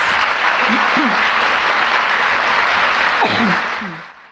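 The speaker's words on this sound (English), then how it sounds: "Let's give all the finalists another round of applause" Sustained audience applause fills the room for finalists at a Holocaust art and writing contest ceremony, a dense even wash of many hands with a few faint vocal sounds underneath, fading out at the end.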